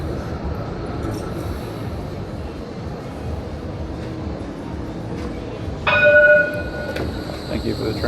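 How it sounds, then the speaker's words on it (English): A tram rumbles past nearby amid steady Melbourne street noise, with a brief high metallic squeal and bell-like ring toward the end. "Thank you for the tram noise."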